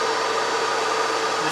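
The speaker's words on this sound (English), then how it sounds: "Trying to force the tacky glue to dry quickly with the hair dryer" A steady, loud whooshing hair dryer hum, running continuously at close range with no pauses while drying tacky glue on a diorama brick wall.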